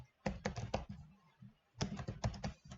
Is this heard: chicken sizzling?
no